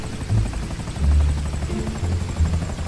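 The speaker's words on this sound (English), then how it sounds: "Are you sure I won't break the helicopter?" Helicopter rotor thrums steadily in the GTA V video game, a low pulsing drone with louder throbbing swells, heard alone without voices.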